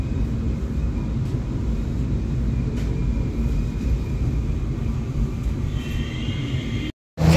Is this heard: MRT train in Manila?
yes